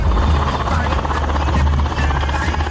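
Air Force Mi-17 helicopter flying an earthquake mock drill airlift, its rotor beating in a loud, continuous pulsing thrum close by, with a voice speaking over it.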